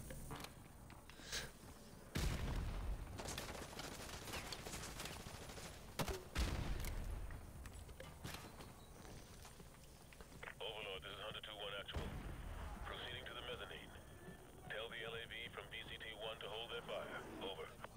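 Grenade launcher shots and explosions in Call of Duty Modern Warfare 2 Remastered, several heavy booming blasts spaced seconds apart amid steady battle noise, radio chatter and game voices.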